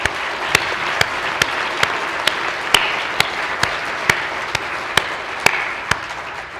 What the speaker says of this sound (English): So I'd like to call for a good round of applause for all of our breakout speakers.